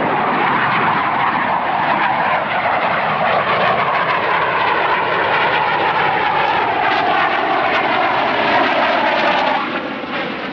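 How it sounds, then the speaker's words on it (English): An F-4 Phantom's big jet engines roar loud and close, a continuous heavy rumble with a rising and falling whine that drops away at the very end. "Man, just love hearing those big engines."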